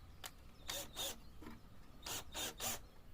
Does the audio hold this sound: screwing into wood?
yes